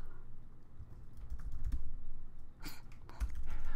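Computer keyboard typing comes as scattered soft key clicks and short bursts, close and fairly quiet over a low background hum.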